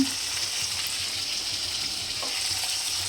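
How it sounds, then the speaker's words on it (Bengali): Fish frying in a pan at home, a steady close hiss of oil sizzling throughout with no talk over it. "মাছটা ভাজা হোক"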